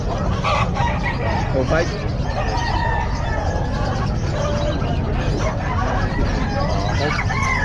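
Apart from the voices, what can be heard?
Pumpkin Sweater gamecock rooster crowing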